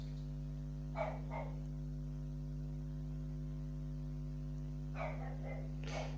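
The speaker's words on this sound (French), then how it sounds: "Et le chien qui s'excite." A dog barking excitedly, a pair of quick barks followed after a pause by several more, somewhat distant behind a constant mains hum.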